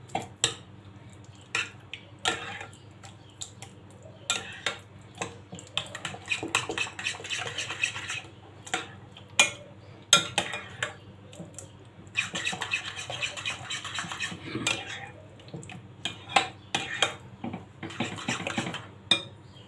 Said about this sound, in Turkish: Yarım çay kaşığı da tuz ekliyorum. Ve e, güzelce karıştırıyorum